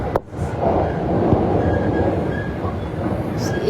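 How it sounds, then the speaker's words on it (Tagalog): A train passing close by, a loud continuous rumble of rolling wheels with faint rail squeals throughout, steady and unbroken. "Ayan o, may train o. Nakita nyo yung train?"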